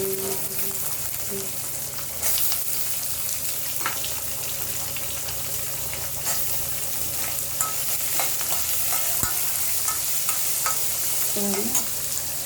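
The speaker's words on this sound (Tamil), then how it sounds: "இப்போ வந்து நம்ம வெங்காயத்தை போட்டுடலாம்." Onions frying and being stirred in a kadai, a steady sizzle running throughout with spoon scrapes and clinks rising above it, up close and moderately loud, a voice speaking only faintly at times.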